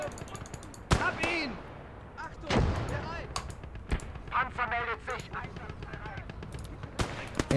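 Gunfire in a trench-warfare strategy game crackles as scattered sharp shots and thuds, with someone talking over much of the battle noise.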